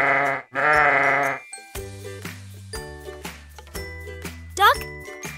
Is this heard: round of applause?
no